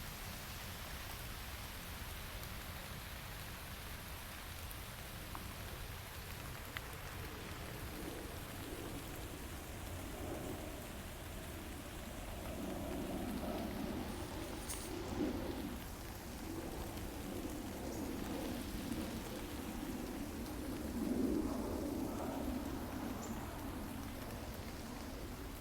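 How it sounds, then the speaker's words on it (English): Steady rain falls through a forest in Central Park's North Woods, a dense continuous patter with low rumbles of distant thunder swelling in the second half, no voices. "we still hear the beautiful rain"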